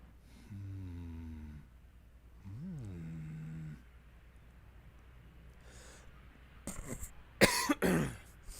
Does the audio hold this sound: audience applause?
no